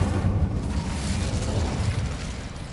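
Incendio fire spell cast in Hogwarts Legacy, a steady, loud roaring whoosh of flame with a deep rumbling low end that holds evenly for a few seconds without any talk.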